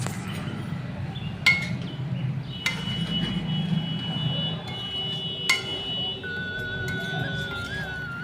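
A spoon clinks against a metal pot while jackfruit kofta curry with chopped coriander is mixed, giving a few sharp, separate taps over a low background hum, fairly quiet and close with no talk.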